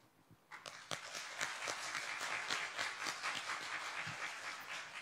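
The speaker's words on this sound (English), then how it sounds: "we can give them applause and say, thank you very much for all the four panelists" A conference audience at an internet engagement forum applauds four panelists, with individual sharp claps building quickly into a steady, fairly close round of clapping that continues without talk.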